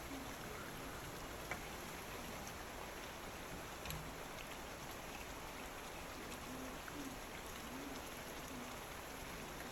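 Chopped tomatoes, onion, garlic and ginger fry over medium heat, giving a steady, even sizzle with no talk over it.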